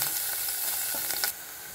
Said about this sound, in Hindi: अब फिर से बर्तन में दो टेबलस्पून तेल डाला है इसमें हम प्याज डालेंगे और भून लेंगे